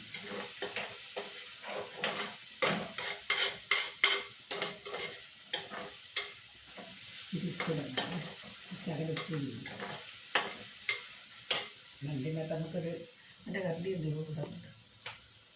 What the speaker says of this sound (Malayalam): നമ്മളെ ഉള്ളി ഇങ്ങനെ വഴറ്റിക്കൊണ്ടിരിക്കുകയാണ്